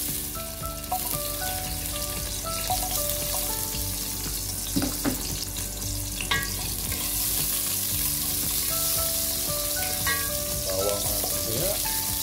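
Garlic frying in a pan for mung bean stew, crackling and sizzling loudly and steadily throughout, with scraping and clinks as it is stirred.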